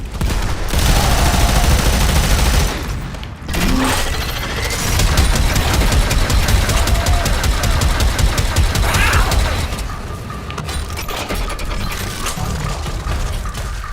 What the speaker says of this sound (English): Just shooting down dropships is...